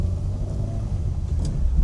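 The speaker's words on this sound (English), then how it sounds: "So we're driving the delightful little 1200 Honda Civic, and it is delightful to drive." A 1200 Honda Civic Mk1 hatchback on the road, heard from inside as a steady low engine and road rumble throughout.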